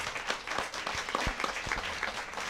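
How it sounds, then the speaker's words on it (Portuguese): Crowd applause at a community event in a favela cultural space: dense, sustained clapping from many hands, steady and fairly close throughout, with faint voices mixed in. "Por favor, gente, palmas para o Paulo."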